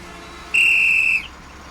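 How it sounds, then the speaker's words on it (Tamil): A single sustained high whistle, steady and clear, lasting just over half a second in a quiet setting with no talk. "நேத்துக்கு விசில் அடிக்கிறேன்"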